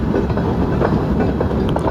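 A freight train of covered hopper cars rolling slowly past at low speed on nearby track, a loud steady rumble of wheels with faint clicking from the rails.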